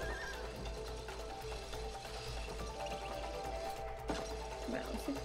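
A horse whinnies in a long, wavering neigh in the video game It Takes Two, amid busy background sound, with hoof-like clip-clops and no clear talking.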